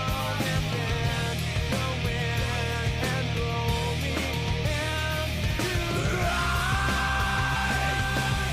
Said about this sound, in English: Gotta have that scream.